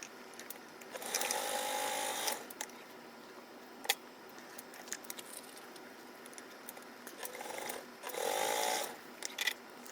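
A sewing machine runs in two short bursts while stitching the side gusset pockets of a tote and crossbody bag, separated by quieter handling sounds and a few sharp clicks.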